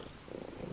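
Close, continuous purring from a cat, a low soft rumble that swells slightly in its second half, with no voices over it.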